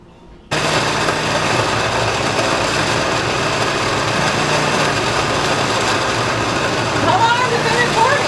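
A blender runs steadily with a constant high motor whine and churning grind that starts abruptly and holds for several seconds, blending chicken stock with water in a home kitchen while someone talks nearby.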